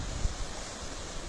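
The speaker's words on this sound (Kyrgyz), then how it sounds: "Бул суу Кара Кожо дарыясы менен Пар дарыясынын кошундусу Кара дарыя болуп эсептелет." Kara Darya river water flows at the confluence of the Kara Kojo and Par rivers near Jiide village, making a steady, even rush of broadband noise that is moderately quiet and unbroken, with no voices.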